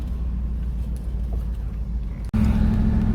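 A Triumph Stag with a failing clutch master cylinder drives along, its engine a steady low rumble that cuts out briefly before returning louder and rougher.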